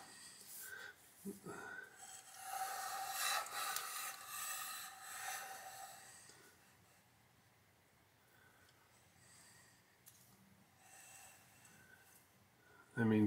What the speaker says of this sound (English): I guess we'll slide the vise.